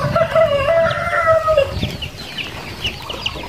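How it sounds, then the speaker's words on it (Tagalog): Farm chickens and ducks near feeding time, a flock clucking and crowing close by, with a prominent rooster-like call early on and scattered clucks and rustling afterward. "Patapos nang kumain yung mga alaga nating mga manok."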